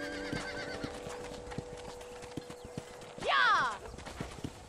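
Horse hooves clip-clop in a slow, irregular rhythm near a ranch corral in Red Dead Redemption, with a loud whinny partway through and people talking over it.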